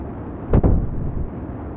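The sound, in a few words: command module exploding, from Kerbal Space Program video game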